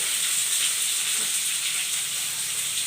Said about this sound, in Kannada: ಈರುಳ್ಳಿ ಒಂದು ಎರಡು ನಿಮಿಷ ಚೆನ್ನಾಗಿ ಫ್ರೈ ಮಾಡ್ತೀನಿ ಸ್ವಲ್ಪ ಲೈಟ್ ಕಲರ್ ಬರೋವರೆಗೆ